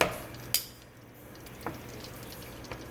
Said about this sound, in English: Now you hear the sizzle, that's when you want to start putting it in.